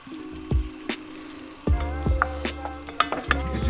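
Spoon stirring about 300 grams of flour into 150 grams of butter in a pan for vegan Albanian halva, with irregular scraping strokes and soft sizzle, close and fairly quiet, with no talking.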